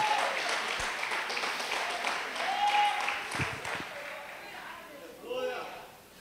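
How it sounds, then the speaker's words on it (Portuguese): A church congregation claps together under a loud voice speaking Portuguese, the applause steady at first and then fading away as the talk carries on. "Não, aplauda o Senhor, já que vai aplaudir, faz direito logo"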